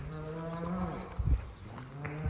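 A few spring cows with a bull nearby in a farm field, one animal giving a low, drawn-out moo that rises and falls, heard faintly at a distance with soft outdoor ambience.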